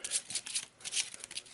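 Arkham Horror Madness cards are shuffled by hand in quick riffled bursts, a close crisp flutter that comes in several rapid waves with a short pause partway through.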